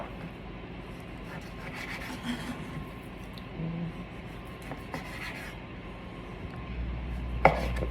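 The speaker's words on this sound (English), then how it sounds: "Just cut up the whole roast." A knife slicing a pork roast into chunks on a cutting board, soft repeated cuts and scraping strokes under a steady background hum, close and fairly quiet, ending with a sharper knock against the board.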